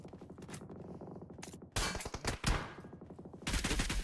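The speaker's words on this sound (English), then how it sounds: "We have spotted some uh, gunshots right here." Gunfire in the battle royale game PUBG Mobile during a tournament match: bursts of rapid automatic shots with sharp cracks, a quieter stretch of single shots, then heavier sustained fire, fairly distant and without talk.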